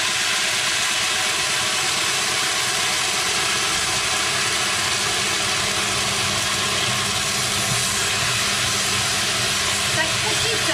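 Red wine hitting a hot pan during deglazing sends up a loud, steady hiss and crackle that fills the whole stretch, with faint talk underneath.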